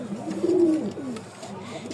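A single pigeon gives a close, loud cooing call, one rolling coo followed by fainter trailing notes.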